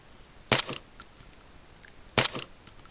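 Two sharp gunshots ring out in Arma 3, separated by over a second, each a loud crack with a brief echoing tail against a quiet background.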